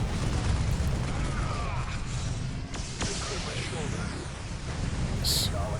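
Plasma cannons fire in a Dawn of War battle, loosing sharp cracking blasts and booming explosions at irregular intervals over a constant clamor of combat. A voice talks over the action throughout.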